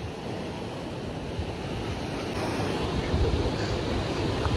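A river rushes past a campsite in the Alamedin valley near Bishkek, a steady broadband wash of flowing water that holds constant throughout with no voices.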